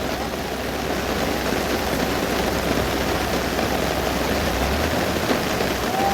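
Heavy rain pours down steadily on an open ground, a dense, even wash of close hissing noise that holds for the whole stretch with no talking.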